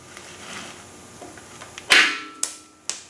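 An impact gun hammers at a bolt being removed from a GC1720 tractor, a short loud burst followed by two sharp clicks, close by with low background noise.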